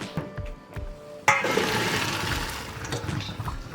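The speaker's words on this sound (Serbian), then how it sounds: "idem sada pasulj da isperem sa toplom vodom" Beans rinsed under warm running water from a tap, a steady close splashing stream that starts abruptly and continues to the end.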